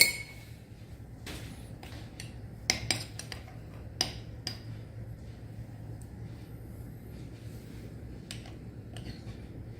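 A spoon stirs deviled egg filling with dill in a bowl, giving scattered light clinks and taps against the dish over a low, quiet background hum.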